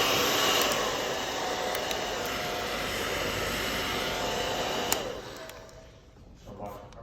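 DEXP hair dryer blows with a steady broadband whoosh close by for about five seconds, then switches off and the airflow fades away.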